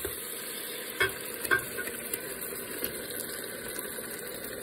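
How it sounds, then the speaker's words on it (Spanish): Beef stew meat fries in a pan with tomato, pepper, garlic and onion over medium heat, giving a soft, steady sizzle with a few sharp clinks of stirring, fairly quiet and without speech. "En fuego medio lo vamos a dejar freír aproximadamente de 15 minutos a 20 minutos"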